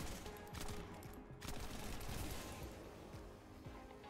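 Explosive proc from the Fallen Hope weapon in The First Descendant, a rapid burst of crackling gunfire and blasts at moderate level, dense and continuous with brief gaps, no talk.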